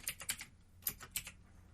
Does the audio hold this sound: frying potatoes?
no